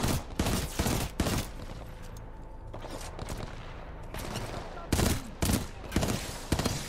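Heavy enemy gunfire in the Titanfall 2 singleplayer campaign, with dense bursts of automatic fire and repeated volleys roaring in close, separated by short lulls under a constant rumble of game noise.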